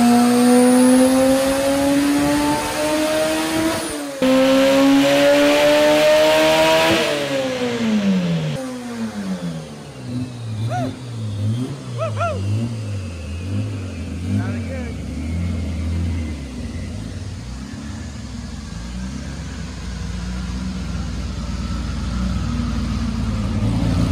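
A front-wheel-drive race car on a dyno in fourth gear, its engine revving hard and climbing in pitch, then dropping and building again in a long loud pull, with a person talking over part of it.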